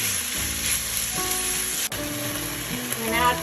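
Vegetables sizzle and fry in a pan with garlic salt, a steady close crackle with occasional stirring clinks and scraping under the hiss.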